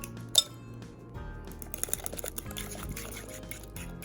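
An egg is cracked and dropped into a bowl of mashed overripe bananas, a sharp clink against the bowl followed by soft wet taps and small clinks from a fork, close and quiet.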